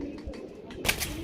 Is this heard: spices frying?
no